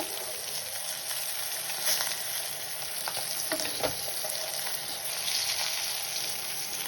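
Trout frying in butter in a pan spits and sizzles steadily while being basted, with soft scraping and spooning clicks scattered through the moderately quiet crackle.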